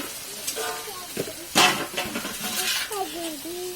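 Hot water is poured into a pan of cooking potatoes, raising a sharp hissing sizzle amid stirring and clinking utensils, while a person talks over it.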